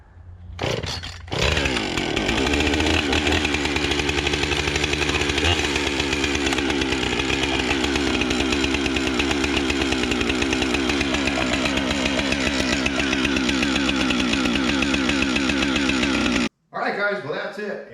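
A Husqvarna chainsaw engine, just repaired for a fuel leak, sputters briefly, then catches and runs loud and steady close by for about fifteen seconds before cutting off abruptly.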